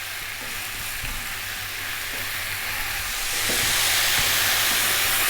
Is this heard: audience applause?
no